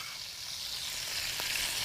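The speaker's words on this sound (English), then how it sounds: "I'm going to add it to the skillet with the bacon and all those drippings" Cabbage fries in a skillet with bacon and bacon drippings, a steady, close hissing sizzle with a faint tap or stir near the end, no one speaking.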